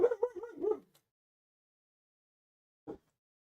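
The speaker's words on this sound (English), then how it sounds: "Sorry for the dog barking in the background." A dog barks in the background, a quick burst of yappy barks followed by a pause and then one more short bark, with no talking around it.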